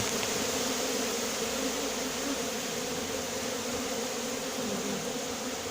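Continuous, droning hum of a honeybee swarm buzzing together, steady and enveloping, with no voices, during a swarm capture using a cardboard box and smoke.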